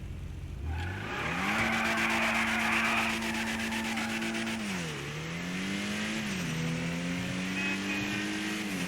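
A Zion Classic sports car, modeled on a BMW M6, accelerates in GTA 5 Online, its engine note climbing steadily and stepping down at gear shifts, loud and alone.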